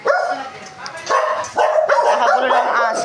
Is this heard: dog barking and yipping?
yes